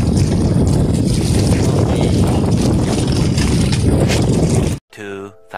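Loud, steady wind roars across the microphone for several seconds at a beach sandbar at Little Boracay, buffeting and rumbling, then cuts out abruptly as a brief voice and engine hum follow.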